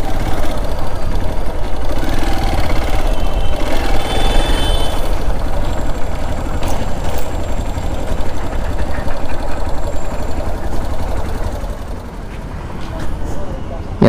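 A motorcycle engine idles near a zoo parking area. A steady, throbbing rumble runs under people talking and fades a little toward the end.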